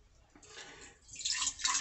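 Water pours into a half-gallon glass mason jar, a faint hiss that starts, dips briefly, then swells louder and brighter as the flow continues, close by and without talk.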